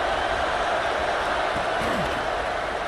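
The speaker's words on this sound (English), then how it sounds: "Listen to the crowd energy here in the early going." Stadium crowd noise from a college football video game, Georgia vs LSU, a steady loud roar of cheering fans filling the whole stretch with no break.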